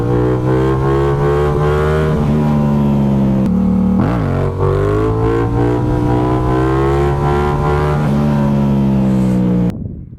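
A 2014 Kawasaki Ninja ZX10R motorcycle rides close by, its engine loud and revving, with pitch rising and dropping through gear changes for about ten seconds before cutting off abruptly.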